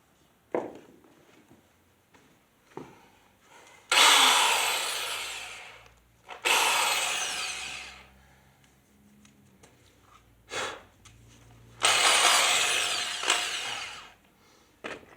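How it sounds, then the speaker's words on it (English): A power drill bores anchor holes through carpet into a concrete slab for securing church pews, sounding in several loud, close bursts of grinding whine separated by quiet pauses. "Drill holes in there."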